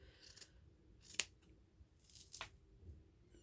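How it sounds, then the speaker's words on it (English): Fabric scissors snip through sock material in two crisp, close cuts about a second apart, with soft rustling of cloth in between in an otherwise quiet room. "These are fabric scissors."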